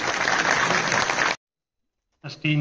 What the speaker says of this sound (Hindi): तो इस बात पर तालियां हो जाए